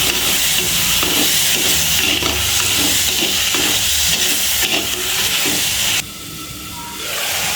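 Onions and tomatoes sautéing in a pan for a meat curry, a steady loud sizzle and hiss with faint stirring scrapes throughout, dropping briefly quieter near the end.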